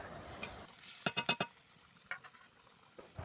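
Fried crab gets stirred with potatoes and spices in a pan: a few sharp scraping strokes and clinks over a soft sizzle, close and fairly quiet, in short bursts.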